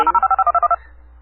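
A quick run of about nine telephone touch-tone dialing beeps plays during a prepaid calling card call, evenly spaced and clear, then cuts to a faint line hiss.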